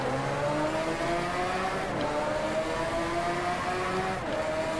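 A Lamborghini Veneno races in the Driveclub game, its engine a loud, continuous high-revving drone with rising pitch and gear shifts, no talk over it.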